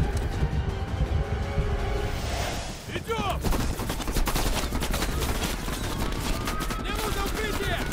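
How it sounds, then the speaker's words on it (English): Dense gunfire in Call of Duty Black Ops Cold War, the Operation Red Circus mission: sustained overlapping bursts and automatic fire run loud and continuous, with impacts and shouted combat voices mixed in. "There are way too many people shooting at me."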